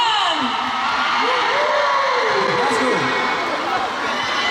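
A charity concert audience at Seoul National University cheers and applauds as Wanna One is welcomed back to the stage, a dense, steady roar of screams and clapping throughout.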